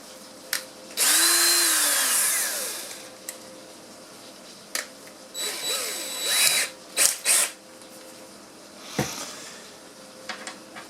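A power drill whirring in short bursts, revving up and winding down between pauses, along with handling clicks and knocks, close and loud, used with flexible dryer vent cleaning rods that carry a plastic head.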